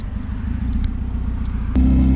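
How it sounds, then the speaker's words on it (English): A turbocharged Honda D16 engine with GT35 turbo and Vitara pistons idles with a steady low rumble and a slightly uneven, missing beat, growing a bit louder near the end, with no talk. "But the car, it sounds weird. It sounds like it has a little bit of a miss."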